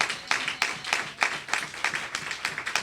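A church congregation claps in acclaim during a worship service, a loud run of rhythmic, fairly even claps with crisp strong beats repeating steadily throughout.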